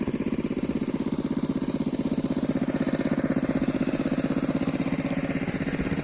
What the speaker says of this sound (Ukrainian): Ось така у нас копалка, трясучка.